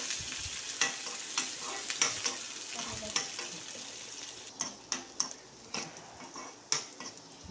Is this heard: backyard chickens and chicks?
no